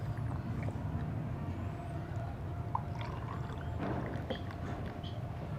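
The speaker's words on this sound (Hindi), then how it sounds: "अभी कीरे का जो शरबत है उसे गिलासों में डालेंगे।" Cucumber and lemon juice is poured from a jug into glasses, giving a soft continuous liquid trickle and splash over a steady background hum.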